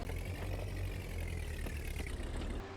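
A forklift engine idles in a video game, a steady low rumble close up with no talk over it.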